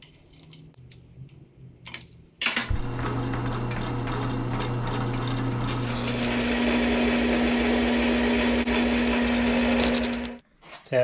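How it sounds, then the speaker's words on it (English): A power drill bores a second hole through metal for a small welded key-storage piece, starting after a few quiet handling clicks, then a loud steady motor whine with grinding that rises in pitch before cutting off abruptly. "Now we have to drill the other hole"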